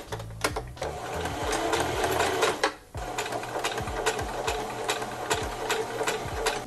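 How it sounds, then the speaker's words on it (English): A sewing machine stitches along a seam of a small fabric hat, running loud and steady with a rapid mechanical chatter, pausing briefly before starting again. "just sew along the line there"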